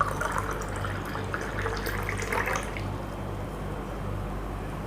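Water trickles and splashes as it is poured from one glass into another, a soft continuous liquid sound lasting a few seconds over a low steady hum.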